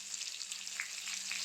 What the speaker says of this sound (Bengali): কড়াইতে দিয়ে দিলাম মাছগুলো আগে ভাজি করে নিই